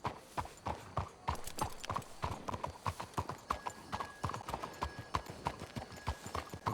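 Horse hooves clip-clop in Red Dead Redemption 2: a brisk, steady run of close, crisp hoofbeats, each hit sharp and regular, keeping an even pace from start to finish.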